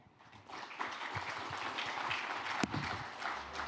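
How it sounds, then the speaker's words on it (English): Audience applause at the 2023 MOEF-BOK-FSC-IMF international conference as a speaker finishes, a steady wash of clapping that swells after a quiet start and continues throughout, with a sharp louder clap near the end. "Please give him another big round of applause"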